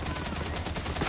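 Gunner enemies in the video game Darktide fire a rapid stream of automatic shots, a dense continuous rattle of gunfire filling the whole short moment at close, loud range.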